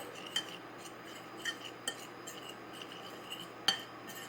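Flour, salt and ground pepper are stirred together in a bowl, heard as quiet, soft scraping with a handful of light clinks of a utensil against the bowl spaced irregularly.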